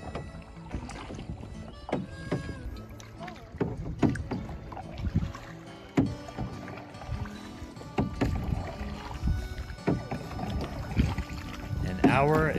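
A boat is paddled on a lake in Custer State Park, with soft splashes and knocks of the paddle in irregular strokes under wind and scattered voices.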